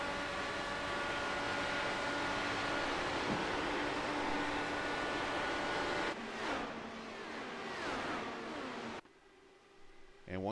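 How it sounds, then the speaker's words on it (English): Simulated IndyCar race cars from the iRacing game at Auto Club Speedway, a steady dense engine drone with faint rising and falling shifts and revs throughout, the sound thinning out and dropping quieter near the end. "You hear the shifting going on in the cars."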